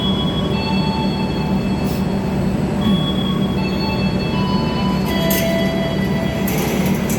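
Cikuray passenger train at Bandung station preparing to depart from platform 4, a loud continuous rumble of the train with occasional metallic clinks and high wheel squeals.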